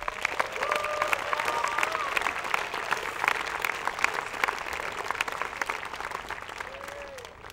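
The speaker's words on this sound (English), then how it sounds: "Please give them a big round of applause." A graduation-ceremony audience applauds steadily for the families and guardians of a high school's graduating class, a dense, sustained wash of clapping that fills the room, with a few faint voices and brief whoops rising over it.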